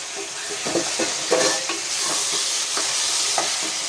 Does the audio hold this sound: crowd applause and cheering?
no